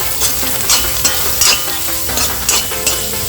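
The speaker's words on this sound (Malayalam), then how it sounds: "ഇങ്ങനെ ഒരു ചെറിയ സവാള അരിഞ്ഞത് അത് ഇതിലേക്ക് ഇട്ട് കൊടുക്കാം. ഇനി ഇതൊന്ന് മൂത്ത് വരണം." Chopped onion fries in a pan for a clam meat roast, sizzling steadily close by, with rhythmic scrapes and clatters of a spoon stirring through it.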